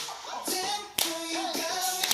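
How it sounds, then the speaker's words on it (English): A few people clap their hands along to a song, with sharp, close claps standing out over bright pop music and sung vocals. "Everyone clap your hands."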